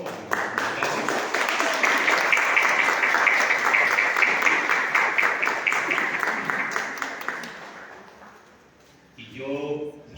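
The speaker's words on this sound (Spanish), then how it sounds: "vamos a darle un aplauso." An audience in an auditorium at a mental health fair breaks into sustained applause, loud and dense for several seconds before fading, with a voice starting to speak at the end.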